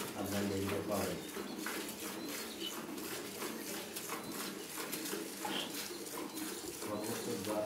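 Pigeons of several breeds, Sirazi, Giribaz and local birds among them, coo at a dairy farm beneath someone talking steadily. The soft, repeated calls are fairly close but partly masked by the voice.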